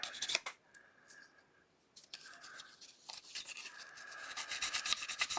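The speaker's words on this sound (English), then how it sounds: "Let me just get these burrs off of these pieces here." Small plastic model kit parts from a 1/35 scale Trumpeter HEMTT wrecker kit being filed to remove burrs, giving dry rasping and rubbing strokes in short bursts, close and fairly quiet, with pauses between passes.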